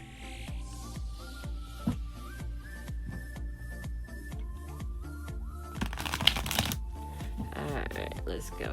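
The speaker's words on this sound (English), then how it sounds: "And one more shuffle." A first-edition tarot card deck is shuffled close up, a rapid riffling flutter of cards with soft slaps, building to a louder burst near the end, while a person talks over it.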